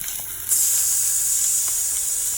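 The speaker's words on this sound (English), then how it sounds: "Sear it right in there." Steamed vegetables and rice hit a hot oiled pan with a sudden loud searing hiss that starts sharply and holds steady and strong, close by, with no talk over it.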